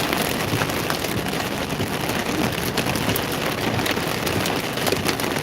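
Steady heavy rain from a tornado-warned storm in Kansas pours down throughout, a dense continuous hiss close around a car, with no talk.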